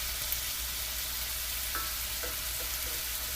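Corn frying in vegetable oil gives a steady, fairly quiet broadband sizzle with a few soft clicks near the end, and nobody speaks.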